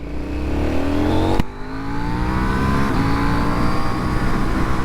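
A KTM Duke 790 motorcycle engine pulls hard in second gear, a loud rising drone with a brief dip at a shift, then climbing steadily in pitch with no talk.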